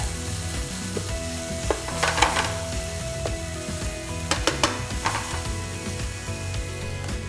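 Beef sizzles steadily in a hot pan with spring onions for beef with broccoli, a continuous crackling fry broken by a few sharp stirring and utensil clatters, close and moderately loud with no talking.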